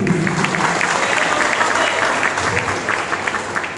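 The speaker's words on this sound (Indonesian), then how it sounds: "Kita tepuk tangan kepada Bapak Bupati." A crowd at a Nias community Christmas celebration in Siak applauds the regent, dense, loud and continuous clapping filling the room, with faint voices mixed into the noise.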